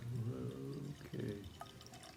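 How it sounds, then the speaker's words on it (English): Two Rabbits Scotch Ale, a dark 6.5% beer, pours into a glass with a steady liquid splash and trickle that softens toward the end, close and quiet. "it's pouring out nice and dark, roasty, reddish brown"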